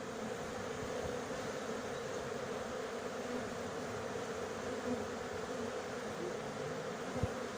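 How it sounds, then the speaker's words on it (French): A honeybee colony inside a chimney buzzes as a dense, steady drone of many wings, continuous and fairly faint with no talk over it. "Je vois beaucoup d'abeilles sortir, j'espère qu'il en sort plus que les butineuses qui rentrent."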